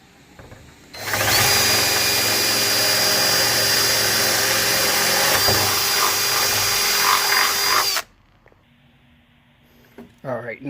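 Power drill tightening bolts on a carbon fiber Mustang CS3 trunk, one continuous loud whirring run of about seven seconds, followed by quiet and then faint clicks, with speech around it.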